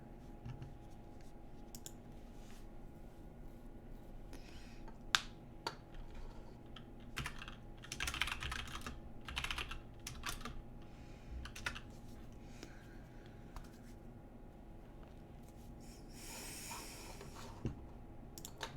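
A computer keyboard is typed on in uneven bursts of keystroke clicks, some quick runs and some isolated taps, set against a low steady background hum with no talk.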